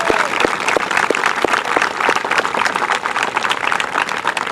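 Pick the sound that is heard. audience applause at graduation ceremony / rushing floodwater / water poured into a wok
audience applause at graduation ceremony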